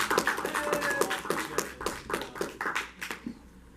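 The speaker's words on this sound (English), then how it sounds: "give them a round of applause real quick before we're done" A group applauds the players at the finale of the Survivor Florida: Afterlife game, a steady patter of many hands clapping for several seconds before it thins out near the end.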